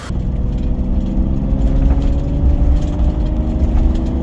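A Toyota Land Cruiser on a test drive, its engine humming steadily with a low droning rumble and road noise, loud and close from inside the vehicle throughout.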